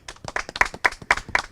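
Students clap together in a short burst of quick, crisp applause, close and lively, with no talk over it.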